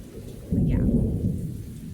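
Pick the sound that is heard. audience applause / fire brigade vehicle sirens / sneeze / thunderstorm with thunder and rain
thunderstorm with thunder and rain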